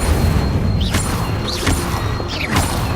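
An Incendio fire spell is cast repeatedly in the video game Hogwarts Legacy: loud, dense magical bursts with rising whooshing sweeps and low booming thumps recurring about every second over a steady roar, with no talk.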